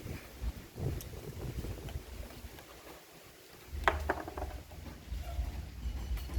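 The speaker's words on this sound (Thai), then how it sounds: "มีลมด้วยมีลมด้วย" Wind blows outdoors, gusting and buffeting against the microphone as a low, rumbling roar that swells and eases, with a brief lull midway and some faint rustling and knocks.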